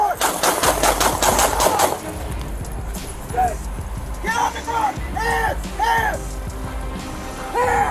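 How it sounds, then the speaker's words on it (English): A police officer fires a rapid string of gunshots, sharp close bangs clustered in the first two seconds, followed by shouting voices and a siren-like wail. "Shots fired! Shots fired!"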